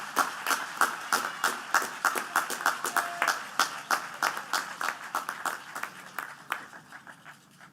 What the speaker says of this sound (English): Please give a round of applause to Aiden Bearer, John Casey, and Christian Rodas.